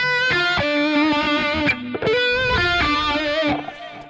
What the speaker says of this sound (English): if you add some delay and you add some wah and some distortion